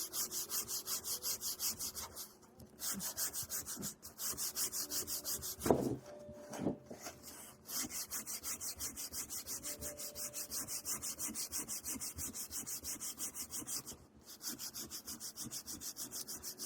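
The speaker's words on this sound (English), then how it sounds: "Sand the inside." Steady rhythmic sanding strokes scrub the inside of a wooden shaker box, close and continuous, broken by a few brief pauses and a small knock midway.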